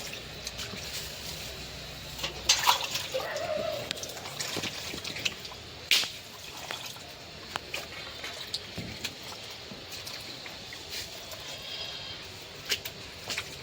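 Mutton fat being washed in water, with irregular splashes, drips and trickles over roughly fourteen seconds and a few sharper sloshes near the start. The sound is close by but fairly quiet, and nobody speaks.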